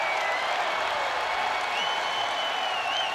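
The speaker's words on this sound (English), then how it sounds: "the crowd roars for Anthony Pack Jr." A crowd at a Texas vs Tarleton State baseball game cheers and applauds in a sustained roar, loud and continuous across the whole span, with no clear talk above it.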